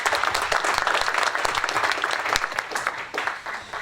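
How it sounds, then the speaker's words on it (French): Audience at a La France Insoumise public meeting in Tarnos claps warmly for a speaker, a brisk, dense patter of many hands that stays fairly loud, then thins slightly near the end. "Alors on peut applaudir Martine qui est là."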